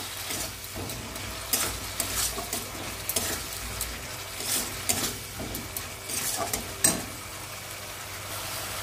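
A spice masala with sour yogurt being sautéed and stirred in a pan over low heat for a pomfret fish curry; a constant gentle sizzle with rhythmic scraping strokes of a spatula, close-up and free of speech.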